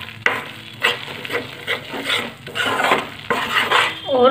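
Besan, or gram flour, cooks over low heat in a pan for halwa while a spoon stirs and scrapes it in repeated strokes, with soft sizzling underneath and close metallic clinks.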